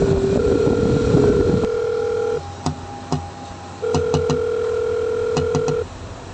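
A phone sounding a steady tone, then short beeping tones in quick clusters like keypad presses, loud and close and alone with no voices, rather than a normal ringing pattern.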